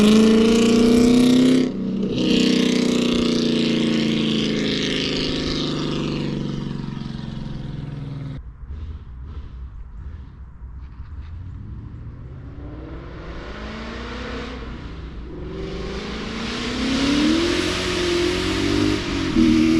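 A 700 WHP modified Mustang with a loud aftermarket exhaust idles with a deep rumble, then roars past in a loud flyby, its revving pitch swelling and dropping as it passes.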